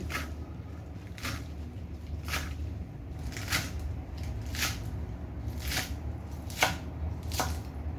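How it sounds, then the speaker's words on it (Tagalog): Repeated knife strokes through vegetables on a cutting board, chopping them lengthwise and crosswise for a simple healthy salad, with about eight distinct cuts spaced roughly a second apart over steady background hum. "Ayan guys, hiwain natin ng pahaba. At hiwain naman natin ng pahalang."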